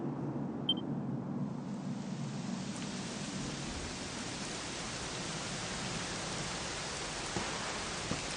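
Steady rain falling in the game Dragon Quest XI, a dense even hiss that holds throughout, with a few faint drops and ticks standing out near the surface.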